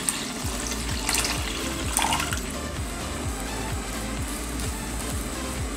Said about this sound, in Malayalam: ഇതിലേക്ക് മീൻ വേവാനുള്ള വെള്ളം കൂടി ചേർത്ത് കൊടുക്കണം